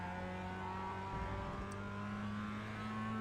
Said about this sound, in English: you heard the engine revving up when I shifted down into second